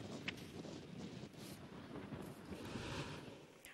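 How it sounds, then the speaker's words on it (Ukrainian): Strong storm wind gusting through Paris at around 100 km/h, a steady rough roar of buffeting noise lasting several seconds with no voices, moderately loud throughout. "Там вітер сягав 100 кілометрів за годину"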